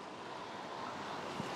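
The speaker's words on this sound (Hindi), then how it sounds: "हवाएं चल रही हैं ज़बरदस्त" Strong wind blows steadily at a Maldives water villa during rain, a dense, even roar with surf-like wash and no pauses, close and moderately loud.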